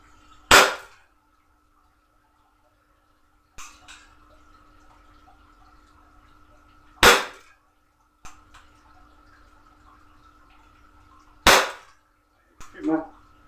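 A CZ 75D Compact airsoft replica pistol fires three sharp, loud, well-spaced shots a few seconds apart at target practice, each one a crisp crack, with faint clicks and handling noises between shots over a low steady hum.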